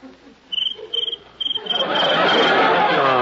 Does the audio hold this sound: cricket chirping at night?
yes